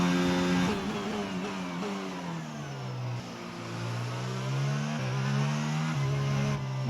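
An F1 22 race car with its rear tyres spinning up, the engine note rising and falling in steady revving sweeps, loud and close throughout with no talk over it.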